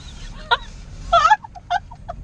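Birds honking in a parking lot in Prince Albert, with four or five loud, close honks in short irregular bursts and no talking.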